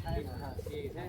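Rajshahi local Giribaj pigeons coo in low, throaty rolling calls, close and continuous through a brief moment, with a faint higher bird call above.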